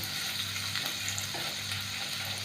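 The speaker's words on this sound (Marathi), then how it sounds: "आलं आणि लसूण हे व्यवस्थित तेलामध्ये परतून घेणार आहोत" Crushed ginger and garlic frying in oil, a steady close sizzle with faint stirring scrapes and a low hum underneath, no talking.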